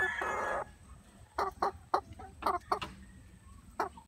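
Native chicken breeder hens cluck in a farmyard with short, irregular bursts of clucking close by, and a brief louder squawk at the start.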